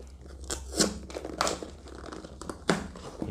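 Plastic packaging on a Samsung Galaxy M10 phone box is cut and peeled away, making close crinkling and crackling with a few sharper tearing bursts, no voices.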